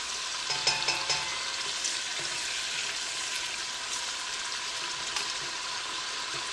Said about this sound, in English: You can see our pancetta as it's cooking in the pot.